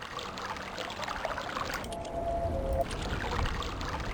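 Flowing, trickling water from the video game Myst, a steady close wash of pouring and streaming with a brief tonal hum partway through, heard alone with no talk.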